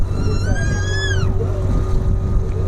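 A motorboat on Chamera Lake runs with a loud, steady engine drone. A brief rising whine sounds early, with faint voices in the background.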